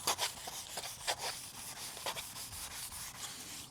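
Coarse 100-grit sanding block rubbed over a patio screen door, brisk rasping back-and-forth strokes in an irregular rhythm, close and clear with no talking.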